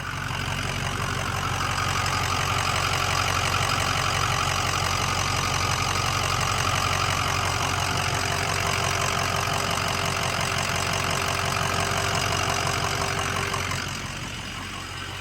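Ford Excursion Eddie Bauer with a 6.0L Powerstroke diesel V8, built 4WD, idling with the hood open: a loud, steady, rough diesel clatter with a low drone, running continuously up close before easing off slightly at the very end.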